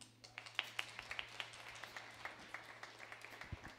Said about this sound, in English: I'd like you guys to give a round of applause to Brendan